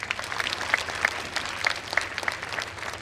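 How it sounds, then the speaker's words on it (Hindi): Audience applause at a Catholic priestly ordination ceremony, a continuous, even patter of many hands clapping with a few distinct sharp claps, moderately loud and heard from a short distance. "ताली बजाएंगे।"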